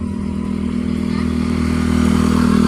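A motorcycle engine drones loudly and close, its steady rumble rising slightly as it revs.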